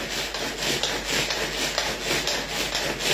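Grated cheese chopped with a knife on a board makes quick, rhythmic scraping and tapping strokes, close and fairly loud throughout.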